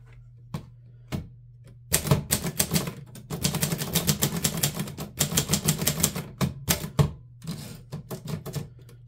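Brisk bursts of keystrokes clatter from a 1950s Groma Kolibri manual typewriter, the typebars snapping in quick runs separated by short pauses, close and fairly quiet with a low steady hum underneath.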